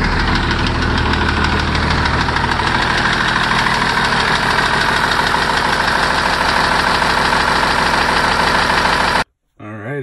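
A diesel pickup truck engine idles roughly after a cold start at minus nine degrees, a loud, close, continuous knocking clatter that runs steadily for about nine seconds before abruptly cutting out.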